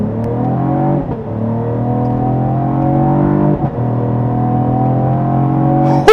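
A 2026 Cadillac CT5-V in track mode launches off the line, its engine roaring close and loud as it climbs through the revs, with brief dips at two quick gear shifts before pulling hard again.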